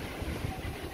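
Steady wind buffeting the microphone, a broad low rumble with gusty swells throughout and no voices.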